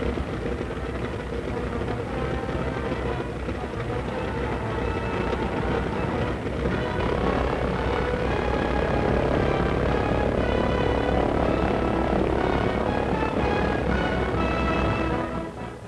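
The engines of the 1919 U.S. Navy NC-4 seaplane drone loudly and continuously in flight, a dense, unbroken roar that holds steady throughout, with no speech.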